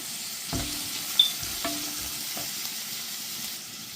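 Beef curry with onion and turmeric sautés in a pan, giving a steady soft sizzle broken by a few clinks of a spoon stirring.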